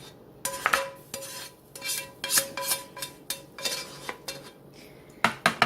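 A spoon stirs a southwestern casserole in a cooking pot, with a run of sharp metallic clinks and scrapes coming in irregular bursts, close and fairly loud, and no one speaking.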